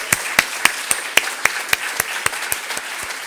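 Clapping from a small audience honoring presenters at a sustainability showcase, with sharp distinct claps in a brisk, fairly even rhythm close by.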